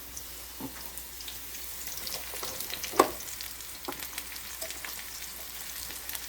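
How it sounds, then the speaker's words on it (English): Pre-sliced mushrooms fry in hot grease in a pan, a steady close sizzle with light crackles and one sharp clink partway through, no voices. "So we're just going to dump those right in before the grease gets too hot."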